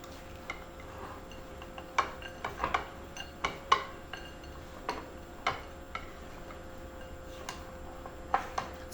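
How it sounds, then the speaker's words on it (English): Sticky cherries are stirred into chocolatey flour in a bowl, giving scattered light clicks and taps of a utensil against the bowl, irregular and fairly quiet over a soft background hum. "I'm gonna take my cherries and get those in here. They're very sticky. Okay, and I'm just gonna give this a little mix."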